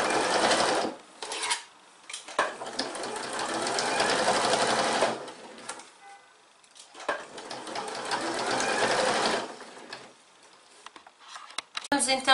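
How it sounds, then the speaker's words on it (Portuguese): A sewing machine stitches all around the edge of a fabric egg cover, running in long whirring bursts separated by short stops, close by, with someone talking over it. "Costuramos agora toda a volta com uma costura à patinha, ou seja, a largura do calcador"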